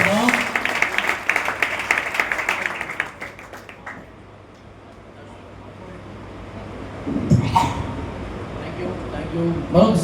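Congregation clapping at an all-night church prayer meeting, a loud burst of applause for the first few seconds that fades into quiet room noise, then a few scattered claps and rustling return near the end.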